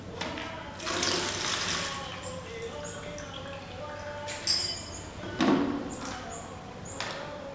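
Tap water running steadily while tea glasses are washed by hand, with occasional clinks and splashes of glass, close and moderate in level.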